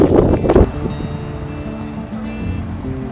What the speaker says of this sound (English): Bear with me, it's windy, which is gonna be a bit sad.